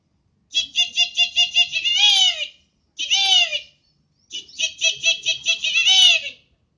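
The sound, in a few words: red-wattled lapwing call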